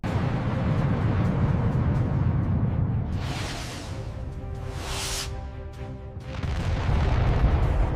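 A ship-launched missile fired during an amphibious assault deployment ignites and lifts off, a deep rumbling roar with two bright hissing surges of exhaust before the thunder swells again, loud and sustained.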